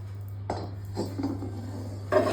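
A triply steel kadhai and other pots are handled in a home kitchen, with a few distinct metallic clanks and knocks at irregular intervals over a steady low hum.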